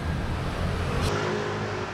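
A scooter engine revs in busy street traffic in Bali, a close, steady motor drone that swells and then eases off partway through, with no talking.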